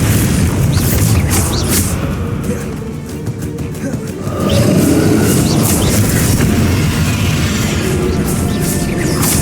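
Booming spell blast from the Bombarda explosion charm in the Hogwarts Legacy video game, a loud, dense rumble that swells over several seconds amid the battle's clatter and effects.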